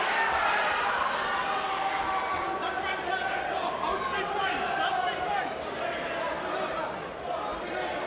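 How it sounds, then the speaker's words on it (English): A travelling Hemsworth crowd at a boxing match chants from the stands, a dense, rolling roar of many voices heard at a distance, steady throughout, under loud commentary and arena chatter. "Cries of Yorkshire from the travelling Hemsworth crowd here"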